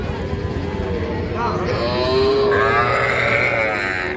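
A young heifer calf at a busy cattle market lets out a loud, close, rising moo lasting a couple of seconds over a steady crowd murmur.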